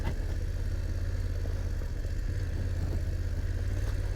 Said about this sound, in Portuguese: Eu vou entrar de moto até ali